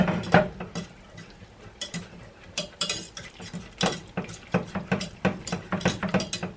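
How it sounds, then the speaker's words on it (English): Stirring melted cheese into a pot of cheeseburger soup, with a utensil scraping and clinking against the pot in an uneven, repeated rhythm, close and moderately loud, with no talking. "Let's put it all in there. And stir it up."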